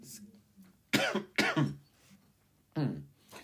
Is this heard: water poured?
no